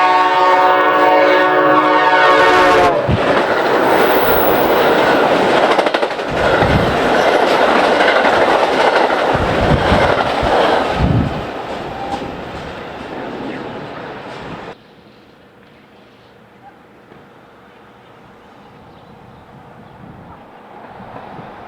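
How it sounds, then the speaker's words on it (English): A P5 commuter train roars past at 70 miles an hour on a busy BNSF main line, opening with a horn blast, then loud rushing and clattering wheels that fade as it recedes; brief talk is heard. "giving us a chance to hear a P5 at 70 miles an hour"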